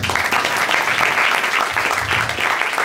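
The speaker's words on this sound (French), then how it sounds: "sous les applaudissements du public" A crowd at an improv show staged under hypnosis at a festival applauds steadily and densely throughout, with a continuous wash of many hands clapping.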